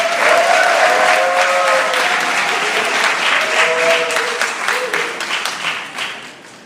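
Sustained applause from a seated audience at a lecture, dense and loud throughout, tapering off slightly toward the end amid some crowd noise.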